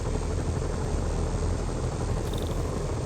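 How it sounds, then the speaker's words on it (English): Helicopters in a Spider-Man video game produce a steady, loud rotor and engine drone that fills the whole stretch without a break, alone with no talk. "Bet I can use those helicopters to swing."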